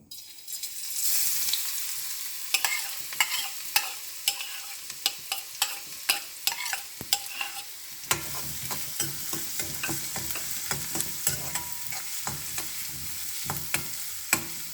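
Chopped garlic sizzles and crackles in Chinese sesame oil in a pan, with dense frying hiss broken by frequent stirring clicks and scrapes throughout, close and steady.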